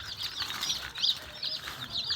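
Several breeds of chickens kept in separate pens at a hatchery farm give soft, intermittent clucks and short calls at moderate distance, with faint rustling underneath.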